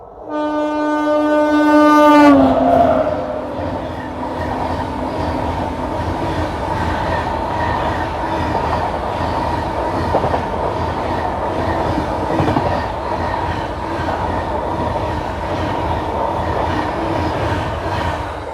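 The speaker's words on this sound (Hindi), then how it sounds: "बठिंडा सुपर फास्ट एक्सप्रेस आ चुकी है।" The Delhi Cantt–Bathinda Superfast Express sounds a long loud horn blast, then rumbles past close by with a steady heavy roll and rhythmic wheel clatter over the rails, no voices.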